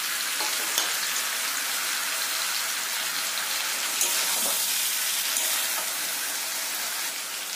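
Prawns frying in spice masala in a pan make a loud, steady sizzle throughout, with a few faint stirring knocks and no voices.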